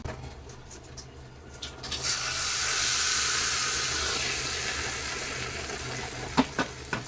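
Hot tempering with curry leaves and asafoetida hits tomato chutney in a sudden, sustained sizzling hiss that slowly fades, closed by a few sharp clinks of the pan.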